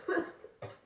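A child gives a couple of short, breathy coughs, close by, with a brief pause between them.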